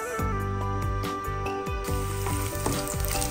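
Garlic sizzles steadily in hot olive oil in a pan, with a series of rhythmic stirring scrapes and clinks repeating roughly every half second; the frying is close and moderately loud, with no talking.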